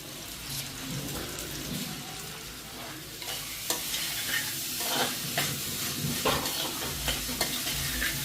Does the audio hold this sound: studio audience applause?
no